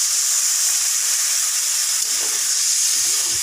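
Water poured into a hot pan of kasha-style curry for jackfruit-seed muitha gives a steady, loud hiss of sizzling and steam that holds evenly throughout, with faint clatter near the end.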